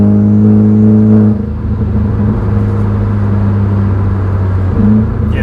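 A Hyundai i30N facelift with a DCT gearbox and a full aftermarket exhaust, its valve open, drives with a loud, steady engine drone. The note drops slightly after the first second and then holds near and continuous.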